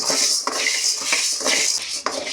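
Dry black and white urad dal rattling and scraping as it is stirred in a hot pan, with crisp rhythmic metallic scrapes recurring about every half second, close and fairly loud.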